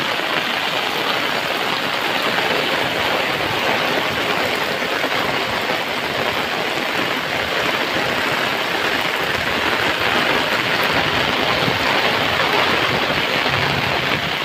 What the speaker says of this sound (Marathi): पाणी बघा किती फास्ट आहे.